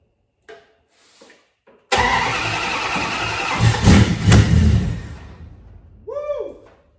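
An old car engine fitted with a Pertronix Flamethrower ignition cranks briefly and fires up loudly, roaring for a few seconds before settling. Voices talk quietly before the start and again after it catches.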